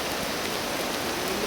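Heavy rain pours down in a dense, steady hiss, close and constant with no pauses.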